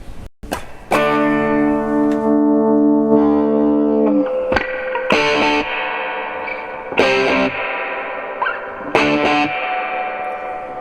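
A distorted electric guitar plays through the overdriven drive channel of a Fender FM 25R amplifier, sustained chords followed by several gritty strummed bursts, loud and close.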